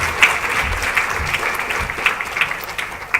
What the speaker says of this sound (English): So I'd really appreciate a round of applause for our highly commended entries.